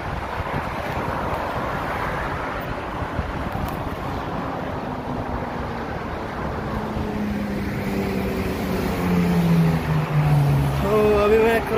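Road traffic while crossing a bridge in Dubai gives a loud, steady roar of passing vehicles with wind buffeting the microphone, and someone talks briefly over it.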